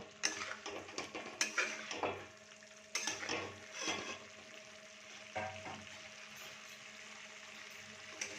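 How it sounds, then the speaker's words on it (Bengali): Fried potatoes being stirred in a pan for a vegetarian dum aloo, with spoon scrapes and clinks against the metal over a soft, low sizzle, in repeated bursts. "দিয়ে এটা ভালো করে নাড়িয়ে নেব"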